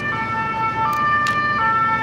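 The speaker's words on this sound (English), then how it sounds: "Siren." An ambulance siren sounds on a street in Seville in spring, a steady wailing tone held at moderate distance amid city ambience with no talk.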